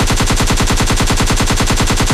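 Sustained automatic Uzi fire in a battle royale video game, a steady rapid stream of loud shots rattling continuously without pause.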